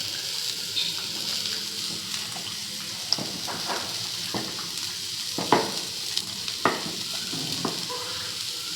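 Rava dosa batter topped with onions, ginger and green chillies poured onto a hot pan: close crackling sizzle with bursts of sharper spitting and a few clinks, no talk.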